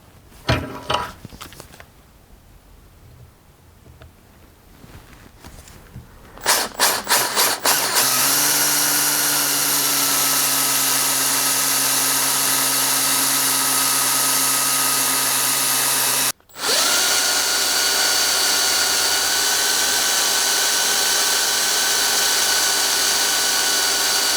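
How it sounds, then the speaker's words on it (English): A power drill whirs steadily at a constant pitch, close and loud, boring out a broken bolt from a bushing, stopping briefly and then spinning up again; a few clicks and handling sounds come first. "I have to remember to spin the drill in reverse"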